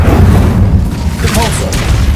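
A booming Incendio fire spell blasts out in Hogwarts Legacy, a single dense, rumbling burst that fills the short moment, with a brief voice-like sound mixed into the game audio.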